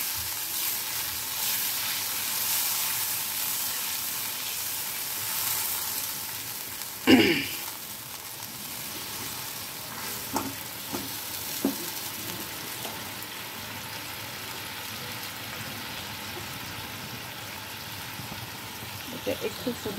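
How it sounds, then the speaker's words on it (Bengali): Gravy for a spicy bele fish curry with ginger-tomato paste and water simmers in a pan, giving a steady soft bubbling sizzle with a brief clatter partway through and a few small pops later. "এটা একটু ফুটে যাক, গ্রেভিটা ফুটে উঠেছে।"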